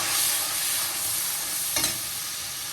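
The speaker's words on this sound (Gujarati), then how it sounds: "હવે આપણે આને પાછું એકદમ હલાવીએ।" White peas curry stirred in a pan after coriander-cumin powder and turmeric go in, a steady broadband scraping sizzle with one brief sharper scrape near the end, no talking.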